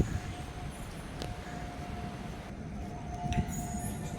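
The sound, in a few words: train arriving at railway station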